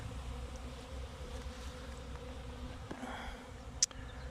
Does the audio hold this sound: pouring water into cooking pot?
no